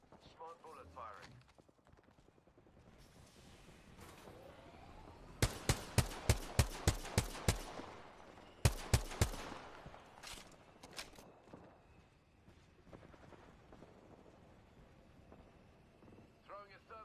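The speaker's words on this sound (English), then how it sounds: "Smart bullet firing." Smart bullets fired in the Apex Legends video game as two quick bursts of sharp, evenly spaced shots, loud and close, with game noise and faint talk around them.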